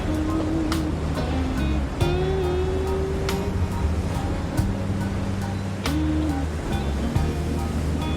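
Ocean waves break at Teahupoo, Tahiti in a continuous roar of surf under music with sustained tones and occasional sharp accents.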